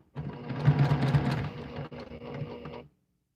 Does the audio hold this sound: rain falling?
no